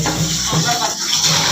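Water runs steadily from a kitchen tap as a continuous broadband wash, loud and close, with a voice speaking over it.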